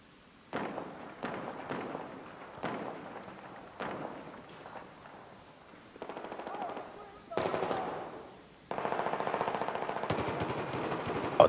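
Gunfire in Battlefield 4 on Golmud Railway in Gun Master mode: repeated short bursts of rapid automatic shots, then a longer sustained stream of fire at the end, loud and close with distant battle noise.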